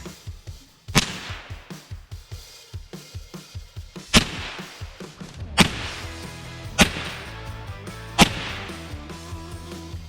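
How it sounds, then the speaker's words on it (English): .22 LR rounds are fired at a cast iron Peerless 2300 transmission, giving five sharp, loud cracks spaced a second or two apart over a background of rhythmic mechanical knocking. "that was 5 rounds of 22 LR, and just as I suspected, it didn't do anything to it"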